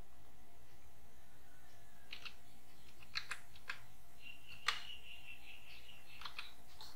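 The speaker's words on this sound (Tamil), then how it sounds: "பின்கோட் டைப் பண்ணிக்குவோம்." A PIN code is typed on a computer keyboard while filling in an online vendor registration form: a handful of sparse, irregular key clicks, faint and close, over a low steady room hum.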